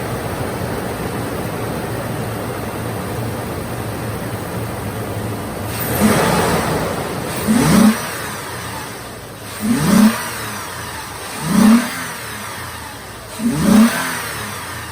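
Toyota 4Runner engine fitted with a new intake revving hard on a test drive, with a steady road drone broken by four or five loud, rising bursts of acceleration that come in close succession.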